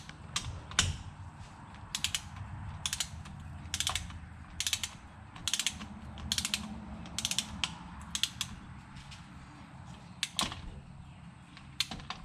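A torque wrench ratchets on the rear differential bolts of a CanAm Maverick 1000R, giving repeated short bursts of clicking pawl ticks in a loose rhythm, close and crisp, with a few louder clacks between.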